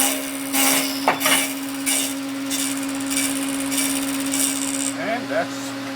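A table saw jig grinds a wooden pulley in short, repeated rasping bursts over a constant motor hum, with someone talking between the strokes.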